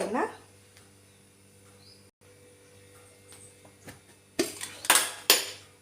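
A metal pressure cooker is set down on a kitchen stove, giving a couple of close, loud metallic clanks and clatters after a quiet stretch with faint background chirps.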